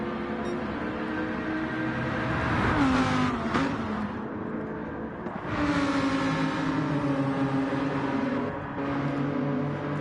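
Race car engines in Gran Turismo 7 at Autodrome Lago Maggiore roar loud and steady, with pitch rising and falling through revs and gear changes as cars run close together.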